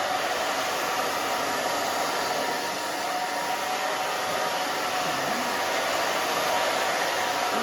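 A hair dryer blows steadily at close range while a short pixie cut is dried and styled with a brush, a continuous loud airy roar with no talking over it.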